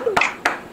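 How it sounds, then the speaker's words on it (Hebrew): Brief applause for a students' final project presentation, sharp hand claps in a few quick bursts, close and fairly loud. "חבר'ה, מחיאות כפיים, תנו להם מחיאות כפיים."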